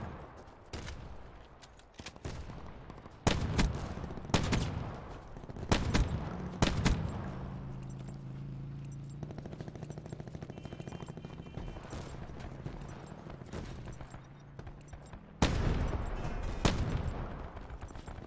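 Shotgun blasts from a first-person video game ring out as several loud, widely spaced booms, with a steady low engine-like hum from a quad vehicle in the middle stretch.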